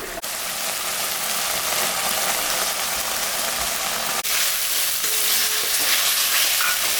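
Masala paste of cumin, dried red chilli, turmeric, tomato and green chilli frying in a pan for a fish curry, a loud, constant close sizzle with crackling that runs unbroken, one sharp click partway through.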